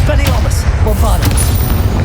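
An explosive Bombardus spell blasts in Hogwarts Legacy, heavy booming impacts thudding loudly amid combat noise while a voice shouts over them.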